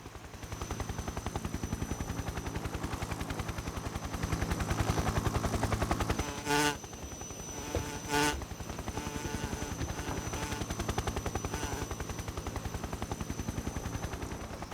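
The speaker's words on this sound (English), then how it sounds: "Hornets probably wouldn't be able to fly very well underneath a helicopter" In the Metal Gear Solid 3 video game, a helicopter's steady rotor drone and whine fills the scene while rapid bursts of gunfire crackle through twice partway in.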